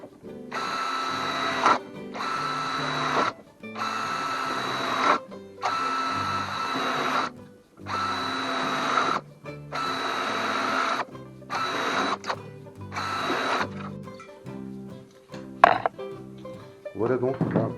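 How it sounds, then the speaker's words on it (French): A hand drill boring holes along the bottom edge of a metal tin box, made into a pyrolysis stove: repeated bursts of loud, high whining drilling, each a second or two long with short pauses, close by. "Je prends la boîte numéro 2 et je perce des trous le long"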